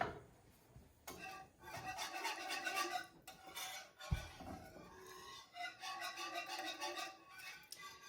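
A whisk stirs biscuit gravy in a pan, producing faint, continuous rhythmic scraping and swishing against the metal, with no voices.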